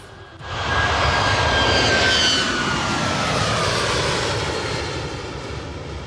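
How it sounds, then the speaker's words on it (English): A United Airlines airliner climbs out at a near-vertical angle on takeoff, its jet engines a loud, steady roar that swells quickly, holds, and then eases slightly as it pulls away. "This United Airlines aircraft decides to show off with an almost vertical takeoff."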